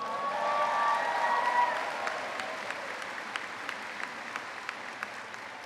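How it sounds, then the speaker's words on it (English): Commencement audience applause at a university graduation ceremony, a broad wash of clapping that fades and thins over several seconds into scattered individual claps. "you can clap for that."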